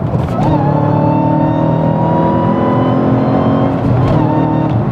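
Manual Dodge Challenger Hellcat pulling hard on a highway after a downshift into third gear, a loud, steady engine roar with exhaust drone holding strong and continuous from start to finish.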